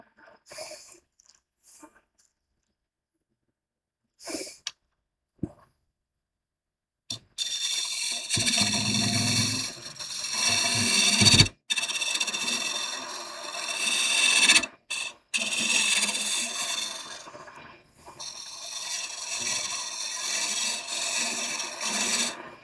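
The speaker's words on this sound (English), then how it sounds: "I'm just hollowing down a little bit, making it thin" A wood lathe tool hollowing out a vase turned from a firelog, making loud continuous scraping and shaving bursts with brief pauses, starting after a few quiet knocks.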